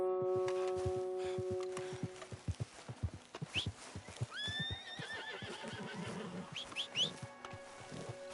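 Horse neighing and whinnying in the Red Dead Redemption 2 video game, two rising squeals over steady hoof clip-clops, with a low hum and ambient background throughout.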